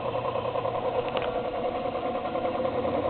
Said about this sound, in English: use the Ford air screw style compressor